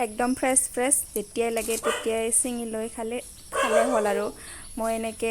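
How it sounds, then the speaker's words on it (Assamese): A dog barks repeatedly at a rural Assamese home near a lemon tree, in quick close bursts through most of the clip while someone talks over it. "কুকুৰে ভুকি আছে"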